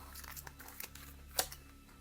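A card drawn from a Tarokka deck: quiet rustles and soft card slides with one sharper snap near the end, close and faint against low background hum.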